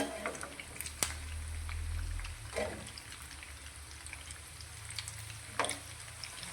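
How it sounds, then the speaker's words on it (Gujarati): Oil sizzles and bubbles steadily as raw potato snack balls fry, with a few sharp crackles and pops over a low hiss. "તેને આપણે આ રીતે ઉપર નીચે કરીશું અને ગોલ્ડન બ્રાઉન ના થાય તે રીતે તેને આપણે તળી લઈશું"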